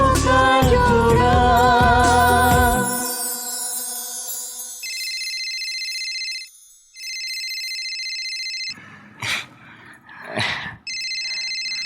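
Telephone ringtone in a TV drama: a repeating electronic two-tone ring in steady bursts following a fading music ending, with short breaks and brief noises between rings.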